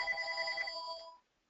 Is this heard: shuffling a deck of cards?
no